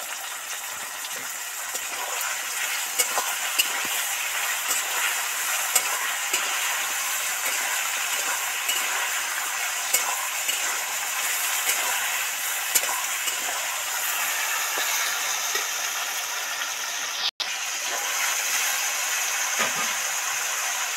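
Potatoes and taro sizzle while deep frying in hot oil, a steady, even crackling hiss that runs throughout with no talking.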